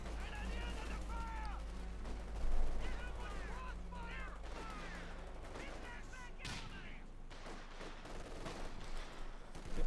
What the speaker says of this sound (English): Bit more shooting there.